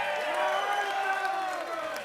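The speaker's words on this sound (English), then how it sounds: "let's give an extra round of applause for Ben Tom's on the drum" A crowd at a metal show applauds and cheers for the drummer, a dense, roomy mix of clapping and voices with faint whoops, sustained throughout.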